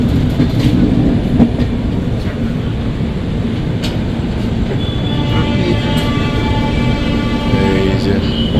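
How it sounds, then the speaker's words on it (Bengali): Puri Garib Rath SF Express train running on tracks after leaving Shalimar station, a loud continuous rumble of wheels and carriage noise heard from inside, with a faint high wheel squeal emerging later. "শালিমার থেকে বেরিয়ে গেল ট্রেন"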